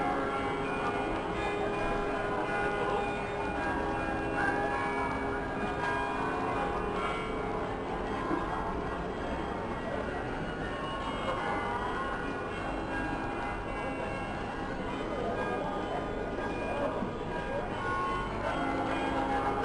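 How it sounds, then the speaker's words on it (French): A carillon in Nivelles, Belgium, plays the tune "Le Temps des cerises" over steady, busy outdoor market noise, continuous throughout with a bright ringing texture. "On entend le carillon qui joue le temps des cerises."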